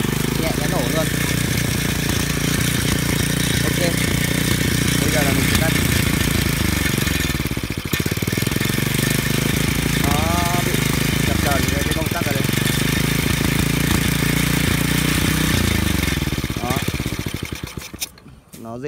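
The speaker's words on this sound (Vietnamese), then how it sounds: "Bây giờ là mình sẽ đạp nổ lại nhé." A small engine on a field water pump is kick-started and runs close and loud with a steady, rough chugging drone, with a voice over it, before it dies away at the end.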